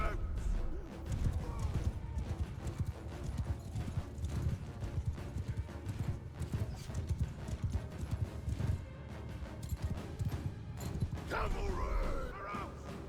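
Cavalry horses gallop in a Mount & Blade 2: Bannerlord battle, a fast, continuous clatter of many hooves with an occasional neigh. Shouted voices rise over the rumbling charge, which stays loud throughout.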